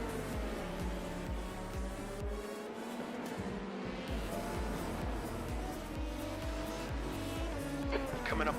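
Race car engine in the iRacing video game at the Daytona 24 hour race, a continuous loud droning whine with shifting pitch and gear changes, up close throughout.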